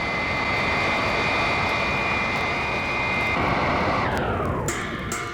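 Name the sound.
plane flying to rendezvous with alien ship, audio drama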